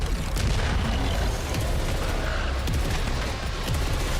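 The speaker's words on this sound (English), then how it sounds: "don't get hurt by these bombs, I hope." Continuous heavy booms and blasts from bombs exploding in the video game Saros, loud, dense and overlapping with no quiet gaps.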